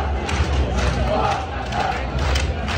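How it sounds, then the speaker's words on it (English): Crowd at an Oskarshamn hockey arena during an SHL playoff game, a loud, dense roar of shouting and chanting fans filling the space, sustained throughout with rhythmic surges. "this atmosphere in Oskarshamn is electric"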